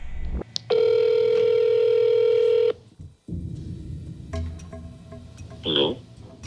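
A landline phone plays a sustained dial tone followed by a few quick keypad tones while placing a call to a scammer, then a ringback and faint line noise.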